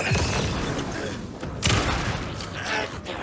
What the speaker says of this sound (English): The fact that you have to take 3 shotgun shots is ridiculous.